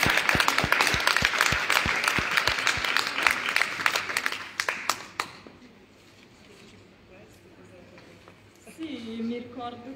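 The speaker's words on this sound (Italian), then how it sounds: "Possiamo fare anche un applauso." Indoor audience at an author talk clapping loudly with dense, sustained applause for about five seconds, then dying away into quiet room noise before a voice begins.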